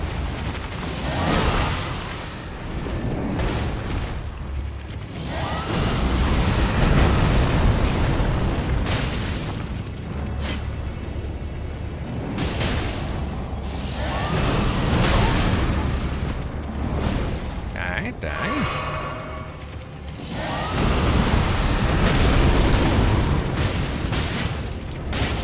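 Fire attacks bursting in the Elden Ring video game as a dense run of loud booming blasts and crackling impacts, mixed with other battle noise throughout.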